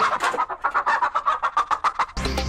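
Desi hens cluck close by in a quick, rhythmic series of short calls, with a brief burst of noise at the end.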